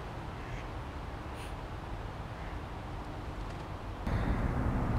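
Ducks at a pond give a few faint, scattered quacks over steady outdoor background noise, with no one speaking.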